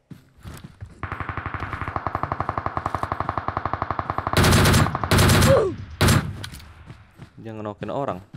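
Rapid automatic gunfire fills a PUBG mobile shooter game with a DP-28 light machine gun, a long steady rattle of close shots, then heavy bursts and a thud, with a voice speaking near the end.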